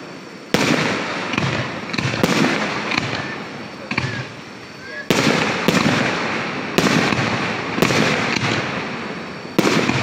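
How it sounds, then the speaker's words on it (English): Fireworks rockets launching and bursting over South Windsor, loud and repeated explosive cracks and booms in irregular clusters with crackling tails between them, heard at moderate distance outdoors. "you can actually see the rockets being launched into the air"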